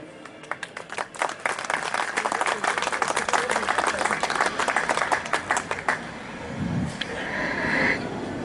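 Audience clapping at a Jain Social Group family gathering and honour ceremony in Nagda, a dense burst of applause lasting several seconds before thinning into scattered claps and room murmur.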